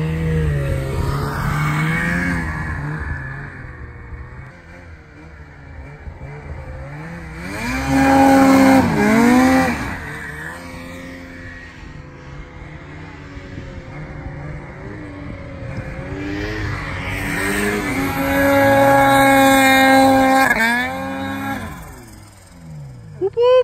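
A 174 turbo snowmobile engine climbs a snowy avalanche-zone hill, loud and close, its pitch surging in two long revving climbs with a quieter steady drone between them.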